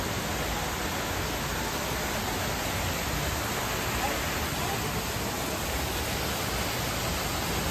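Indoor waterfall in the atrium of the Opry hotel in Nashville, a constant loud rushing hiss of falling water, steady and unbroken throughout, close by and drowning out other sound.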